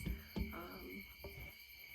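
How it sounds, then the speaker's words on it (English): Crickets chirp in steady repeating pulses on a summer night outdoors at an Earthwork Harvest Gathering stage, a sustained high trill running beneath a few brief low thumps and other sounds. "on a beautiful summer night on the stage where I can hear crickets"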